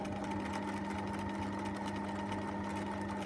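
A sewing machine stitches a welt seam, running steadily with a fast, even mechanical whir and chattering needle rhythm that holds at a constant level throughout, close by and with no voices.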